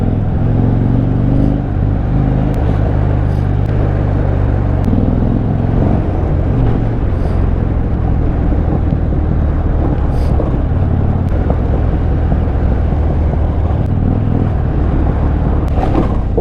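A 2013 Harley-Davidson Dyna running on its last leftover petrol on a mountain road, a loud, steady low engine rumble with wind buffeting the microphone throughout.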